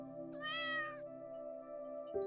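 A cat in Stardew Valley: Expanded gives one clear, rising-and-falling meow that lasts about half a second. It plays over a steady, droning musical background at moderate volume.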